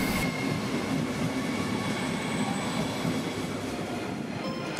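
A train rumbles steadily through Frankfurt main station, a continuous loud rolling noise with faint wheel squeal and no voices.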